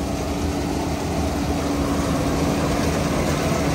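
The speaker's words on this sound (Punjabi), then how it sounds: "ਆਪਾਂ ਟਰੈਕਟਰ ਕਰ ਲਿਆ ਸਟਾਰਟ" A 3630 special edition tractor engine runs steadily at a close, loud idle on a farm during the rice harvest, a continuous low drone with no voices over it.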